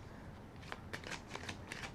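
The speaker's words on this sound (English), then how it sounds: "We're going to put another rifle and shuffle on the deck." A deck of tarot cards being riffled and shuffled by hand, a soft, close run of papery flutters and taps against a quiet room hiss, with no talking.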